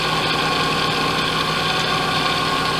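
A shear sharpening machine runs steadily nearby, a continuous loud motor hum and buzz with no breaks or voices.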